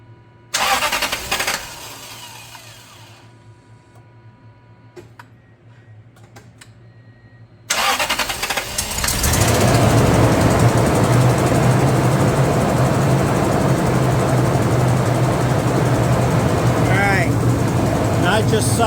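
A Toyota Tundra 4.7L engine cranks and catches after a quiet stretch with someone talking, then settles into a loud, steady idle that runs unbroken, with an exhaust leak on the truck.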